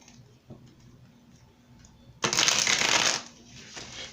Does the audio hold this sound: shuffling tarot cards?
yes